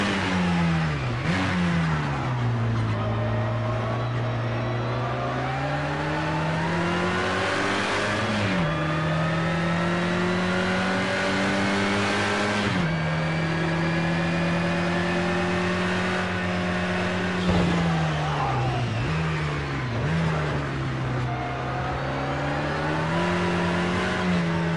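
Race car engine in Project Cars 2 screams steadily at high revs, rising through the gears with brief dips at each shift, loud and close throughout.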